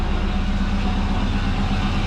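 A twin-turbo Subaru idles steadily with an exhaust leak at the wastegate, giving a continuous low rumble with a raspy, puffing texture, close and fairly loud with no talking.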